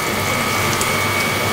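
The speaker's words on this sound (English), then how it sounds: "I'm not sure why they squirt out water." A geoduck clam squirts out a steady spritz of water, a continuous close hiss that holds evenly throughout with no pause.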